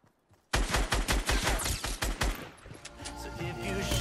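A rapid burst of automatic gunfire in Fortnite, about a dozen evenly spaced loud shots at close range that then blur into a dense rattling clatter.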